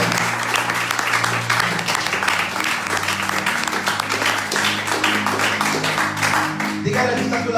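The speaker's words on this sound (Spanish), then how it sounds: "Iglesia, dale un fuerte aplauso al Señor." Church congregation giving a loud round of applause to the Lord, a full, steady wash of many hands clapping over a sustained organ-like musical drone, with a voice entering at the end.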